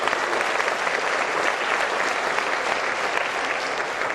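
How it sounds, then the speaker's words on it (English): Sustained applause from a large crowd at a speech by President Obama at MSU, dense and steady clapping throughout with no pauses. "we deserve a big round of applause"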